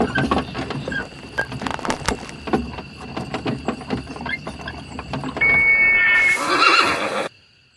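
Amid the clattering, bustling noise of artillery on the march, a horse shies and lets out a loud, shrill whinny near the end before the sound cuts off.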